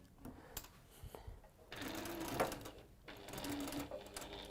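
A home sewing machine runs unthreaded in a textile workshop, its motor whirring in steady bursts of stitching with brief pauses between runs, close and fairly loud.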